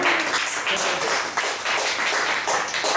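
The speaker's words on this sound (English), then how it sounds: "I think you deserve a round of applause" Audience applause closing an evening Q&A with Kate Jessop and Leo Crane: steady, dense clapping from a room full of people, sustained at even loudness for the whole stretch with no voices rising above it.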